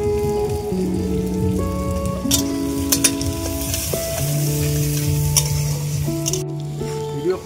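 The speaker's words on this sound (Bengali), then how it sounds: "পেঁয়াজ লাল লাল করে ভাজা হয়ে গেছে" Onions fry in a pan while cooking at an outdoor picnic, a continuous bright sizzle holding steady throughout, overlaid by sustained melodic tones that shift in pitch like background music.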